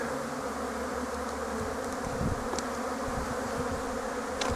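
A dense, continuous buzz of many honeybees fills the air as they fly at their hive on a mild winter day for a cleansing flight, close and steady throughout.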